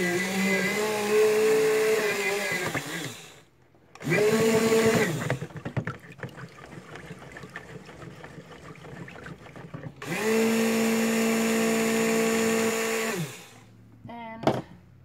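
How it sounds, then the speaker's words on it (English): Stick blender mixing soap batter in three loud, close bursts of steady whirring, separated by quieter pauses with faint clinking and handling noise. "I gotta get my other stick blender. Here we go. Okay, I'm gonna mix this in."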